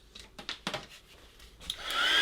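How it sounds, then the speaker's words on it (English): A hair dryer blasts air over a watercolour painting. It roars up near the end after a few soft taps and rustles. "Quick blast with the dryer."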